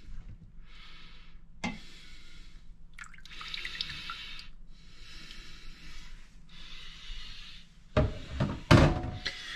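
Soaked bread pieces are scooped out of fermenting kvass, giving repeated wet dripping and trickling bursts with light thunks and a louder clatter near the end, close by and with no speech.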